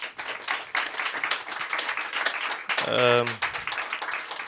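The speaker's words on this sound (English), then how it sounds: "Once again, please one applause." Applause from an audience at a journalism and artificial intelligence panel thanks a speaker, a steady patter of clapping with a brief voice cutting in just past the three-second mark.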